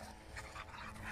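A boxer and a mixed-breed dog playing, with brief whimpering, panting and a small yip, close by in a short burst, no voices.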